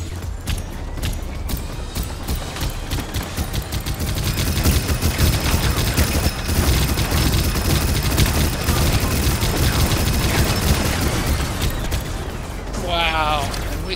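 Weapon fire from a helicopter-style vehicle with shredder guns in the Robocraft video game: dense, relentless rapid gunfire and clattering impacts throughout, loud and continuous, with players talking over it.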